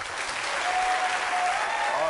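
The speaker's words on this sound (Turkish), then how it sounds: "Bir alkış alalım." Studio audience applause on a Turkish quiz show set in a taxi driver's episode, a dense steady burst of clapping filling the whole clip, loud and continuous with no break.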